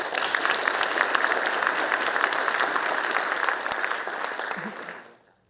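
Audience applause welcoming a vice president to the stage at an Academia Sinica lecture hall, a steady wash of clapping hands that holds for several seconds, then fades out near the end.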